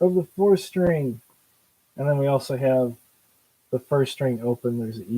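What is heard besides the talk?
No distinct noise like a dog, phone or traffic.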